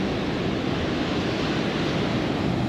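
Big ocean waves crash and churn along the Atlantic coast of western Morocco, where fishing boats put out to sea. A loud, steady roar of surf fills the whole stretch, with wind noise mixed into it.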